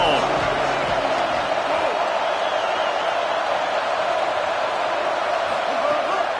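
Loud, steady roar of a packed college football stadium crowd on a crisp late-season day, a dense wall of noise holding constant throughout, with a commentator's voice faintly under it.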